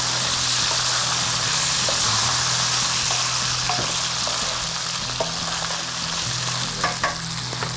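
Tomato puree and green chili paste are stirred in a karahi for Afghani karahi, making a loud, continuous close sizzle with repeated scraping strokes of the spoon and no speech.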